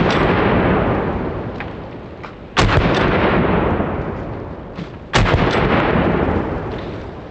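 Panzer M4 Speed PRO shotgun loaded with double-aught buckshot fires three loud, sharp blasts a few seconds apart, each booming report trailing off into a long rumbling echo outdoors.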